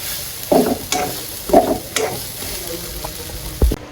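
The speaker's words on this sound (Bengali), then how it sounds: "এখানে সয়াবিন ভেজে নিচ্ছি" Soya chunks fry in a pan with a continuous sizzle. Several spatula scrapes and knocks against the pan come at a loose, irregular pace.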